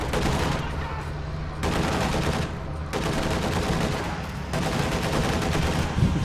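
Heavy DShK machine gun fire in a World War II strategy game, loud sustained bursts of rapid automatic shots running almost continuously with brief gaps, close and dense, with no talking over it.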